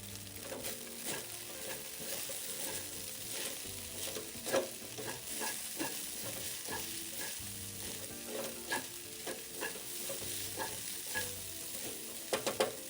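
Rice vermicelli with bean sprouts and red chili strips stir-fried in a pan for fish sauce bee hoon: steady sizzling under repeated scraping, tossing clanks of the spatula at an irregular rhythm, close and alone with no talk.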